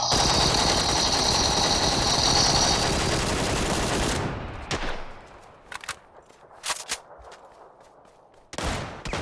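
Gunfire in the video game PUBG: a sustained automatic burst for about four seconds, followed by scattered single shots and short bursts amid quieter stretches.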